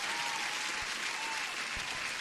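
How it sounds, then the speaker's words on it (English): Huge applause sound effect, a dense steady wash of crowd clapping that holds evenly for a couple of seconds at low volume, with no voices over it. "Huge applause."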